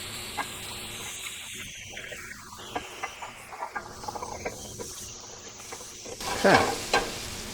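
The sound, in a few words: mushrooms sautéing in oil in a pan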